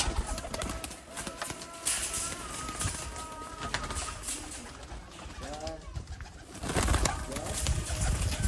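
Pigeons coo in soft, repeated rolling calls amid a busy background of other birds and ambient noise, with a louder stretch near the end.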